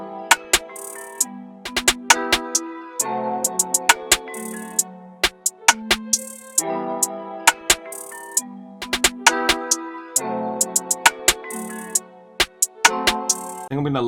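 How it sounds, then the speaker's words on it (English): FL Studio hi-hat pattern with randomized velocities, ticking in quick uneven rolls and bursts over a looping beat with bass and melodic synth, the hats varying in loudness from hit to hit. "Now I'm going to start laying down my hi-hats."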